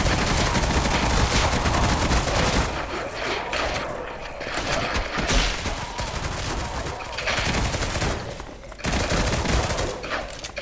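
Rapid bursts of automatic gunfire from a zombie video game crackle loud and near in dense volleys, with short gaps between strings of shots and a voice faintly underneath.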